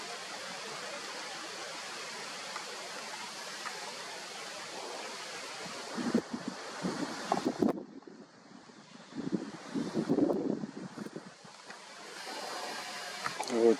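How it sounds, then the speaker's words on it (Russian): Steady wind rushes and buffets the microphone, with louder gusts and rumbling thumps later on, and no clear voices. "Хотя ветер, наверное, шумит"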